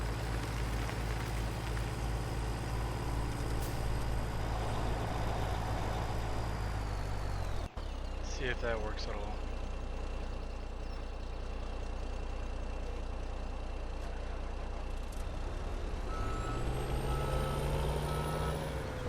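A Farming Simulator 17 truck idles with a steady engine drone and reversing beeps, cuts out with a sharp clunk, then restarts and revs as it moves; someone speaks briefly.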